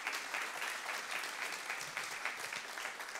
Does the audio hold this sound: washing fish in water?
no